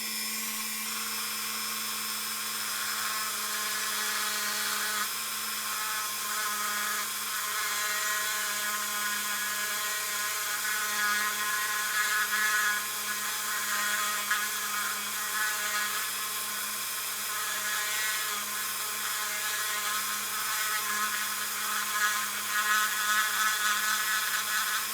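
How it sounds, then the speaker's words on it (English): A Dremel engraving bit grinds into a diecast metal model car, a steady high-pitched whirring drone that stays close and constant throughout with slight wavering, no voices. "This is a Dremel brand engraving bit."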